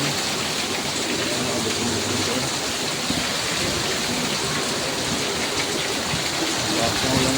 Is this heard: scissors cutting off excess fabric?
no